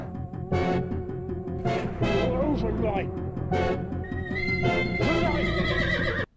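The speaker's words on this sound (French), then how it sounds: "il va apparaître l'un des éléments les plus connus et emblématiques du film, le cheval noir" Black horse in a horror film whinnying in several loud, drawn-out neighs, mixed over a dense film soundtrack with music.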